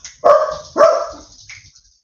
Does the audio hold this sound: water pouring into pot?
no